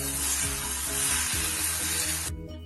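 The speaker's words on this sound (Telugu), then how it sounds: "చిల్లీ ఫ్లేక్స్ వేస్తున్నాను ఇప్పుడు మనం ఒక రెండు మూడు నిమిషాలు దీన్ని మగ్గిద్దాం" Chili flakes frying in hot oil seasoning with drumstick leaves give a loud, steady, close sizzle that stops abruptly near the end, with a faint low musical tone underneath.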